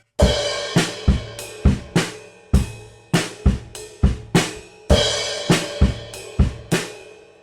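A drum kit plays a steady rock beat with regular kick and snare hits, and a bright crash cymbal on beat one washes over the start of phrases.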